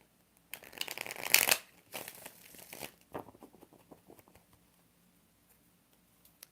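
Tarot cards are shuffled in quick riffling bursts, loudest early then tapering into softer scattered taps and flicks before fading to near silence.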